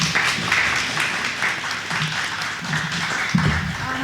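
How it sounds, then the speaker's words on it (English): A panel audience applauds steadily for several seconds, a dense wash of clapping that holds at an even level, with a few voices and cheers mixed in near the end. "how about another big round of applause for these amazing women"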